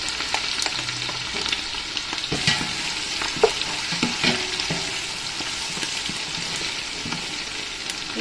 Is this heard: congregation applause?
no